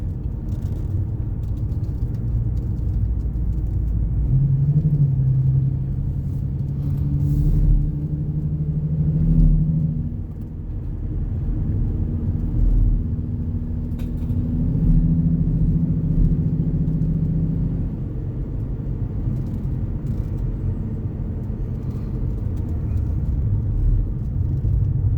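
A car drives a rough, winding mountain road through the Cumberland Gap in the Appalachians, with a steady low engine rumble and road noise throughout, gentle rises and dips in pitch as it takes the curves, and light rattling.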